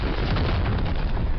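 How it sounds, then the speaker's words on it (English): A tank bombardment explosion in the Star Wars Empire at War game, a loud, sustained low rumbling blast filling the whole short moment without any voices. "I'm just going to bombard it"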